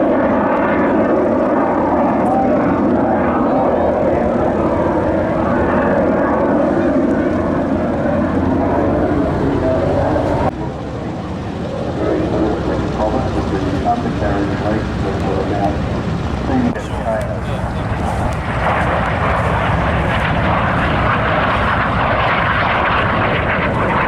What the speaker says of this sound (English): Now the pilot flying it, Jeffrey Nelson, is a former RAF pilot